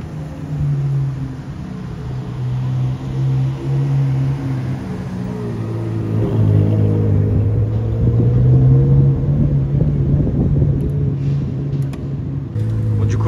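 High-performance V12 supercars, among them a Ferrari F8, pass and rev on a London street at night, a steady engine drone building into louder, rumbling acceleration around the middle, with no talk over it.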